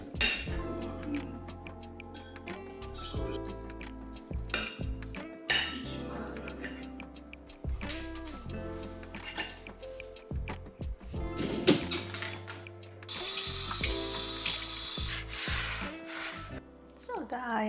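Plates and cutlery are washed at a kitchen sink, with steady close clinks and clatters of dishes and silverware knocking together, and running water swelling into a hiss toward the end.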